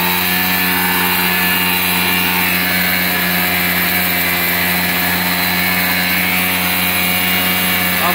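A steady, loud mechanical drone from a homemade motor-driven well drilling machine runs without a break, its even hum and grinding whine holding constant throughout.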